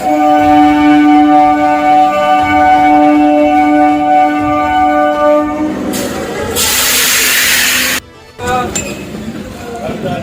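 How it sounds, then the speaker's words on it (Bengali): A Canning Local suburban train in Kolkata runs with a loud, steady rumble and a sustained horn or whine, then a burst of hissing noise and clinking rattles before a brief abrupt drop. "তো যাদবপুর যাওয়ার জন্য আমি ক্যানিং লোকালে উঠে গেছি"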